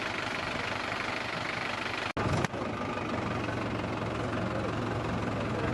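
A tractor engine idles with a steady, low knocking chug that runs throughout, broken by one brief loud clunk partway through, with no talk.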